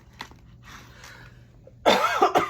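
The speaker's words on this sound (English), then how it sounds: "And then this coughing, I think I'm getting sick." A person coughs hard two or three times in a quick, loud, close burst near the end, after a quieter throat sound and soft breathing earlier.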